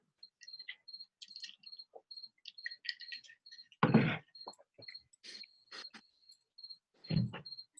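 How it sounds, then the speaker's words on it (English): Crickets chirp outside, with a thin repeated high chirp running through the quiet, broken by a few louder thumps and rustles nearby. "For real crickets outside."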